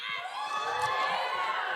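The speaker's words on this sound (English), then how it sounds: "We are not cheering for the murder of Carol Thompson." Live podcast audience cheering and whooping together, a steady loud wash of crowd voices held for a couple of seconds.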